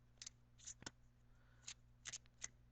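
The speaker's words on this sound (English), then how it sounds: "So I'm going to shuffle for one outcome card." Soft, close riffling and snapping of tarot cards being shuffled in short bursts, with quiet pauses between, no talking.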